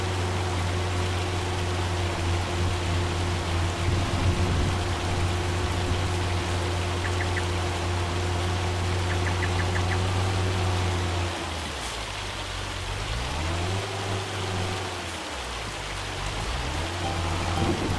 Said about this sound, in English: I know you're not really liking the rain right now, but we've got rain for the foreseeable as well.